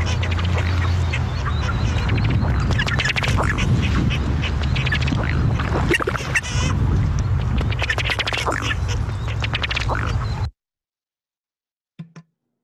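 A male ruddy duck calls during his mating display, a rapid series of rough, ticking notes with a throaty finish, heard close over continuous background noise that then cuts to near silence, leaving one brief faint call at the end.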